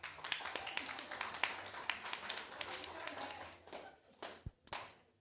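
Scattered clapping from a small crowd at a school annual dinner, a patter of many hands that thins out and fades into a few sparse claps toward the end.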